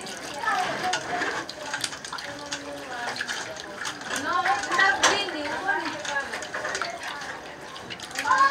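Running water splashes and rattles in a bowl as meat is rinsed for spaghetti, with clinks of the dish and intermittent speech over the gurgling.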